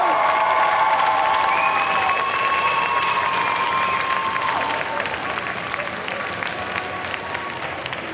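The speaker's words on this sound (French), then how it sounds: "encore un tonnerre d'applaudissements s'il vous plaît pour le groupe Zombieland Saga" A crowd at the Belgian World Cosplay Summit selection, Made in Asia 2023, gives a loud, sustained round of applause with cheering for a cosplay group, tapering slightly over the eight seconds.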